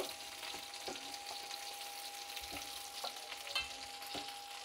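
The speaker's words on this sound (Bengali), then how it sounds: "তো কইডাগুলো এখন ভেজে নিব।" Koi fish pieces frying in hot oil for koi biryani give a steady close sizzle, broken by scattered sharp pops and crackles throughout.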